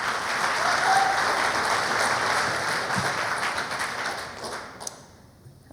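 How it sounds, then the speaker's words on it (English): A round of applause from an audience at a coding awards ceremony, steady, dense clapping across a hall that gradually thins and fades toward the end. "let's give them a round of applause"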